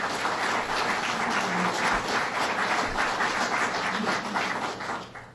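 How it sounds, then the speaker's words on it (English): An audience at a University of Rochester ribbon-cutting event gives steady, dense applause that carries through most of the clip and fades slightly at the end. "Let's give them a round of applause."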